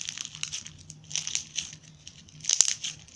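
Crunchy rice is squeezed and mixed into slime up close, giving quiet, irregular crackling crunches and crinkles in short bursts, one sharper crunch near the end, with no talking.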